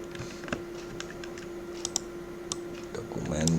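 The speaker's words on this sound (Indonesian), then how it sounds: "ketik aja ini latihan" Light, uneven clicking of computer keyboard keys typed at a moderate pace, close by, with a faint steady hum underneath and a brief burst of talk near the end.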